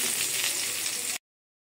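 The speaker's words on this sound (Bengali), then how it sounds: "এখন ভেজে নিব ডিম" Eggs frying in hot oil in a pan, a steady, close, loud sizzle and crackle that cuts off abruptly.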